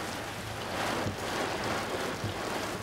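Heavy rain pours down in a steady, dense wash of noise, loud and continuous throughout with no talking.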